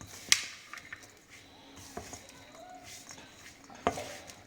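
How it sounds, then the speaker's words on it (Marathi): Fresh turmeric pickle being stirred with masala in a bowl: soft scraping and mixing with a few sharp clinks of a spoon against the container, faint and close, with no talking. "व्यवस्थित सगळं हे मिक्स करून घ्यायचं."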